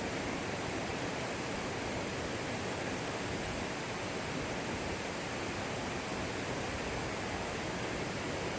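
Rushing water of the Kali Jompo river in Jember roars as a steady, loud, unbroken wash close by, with no voices over it.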